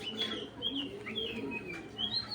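Imported racing pigeons in a loft, giving soft coos and faint chirps at low volume, with a steady background murmur throughout and no clear voices.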